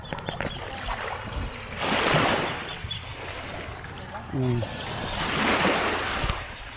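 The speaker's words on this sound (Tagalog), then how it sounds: "Lakas na alon." Strong ocean waves surge and crash in two broad, roaring swells, with a steady rush of wind and surf in between.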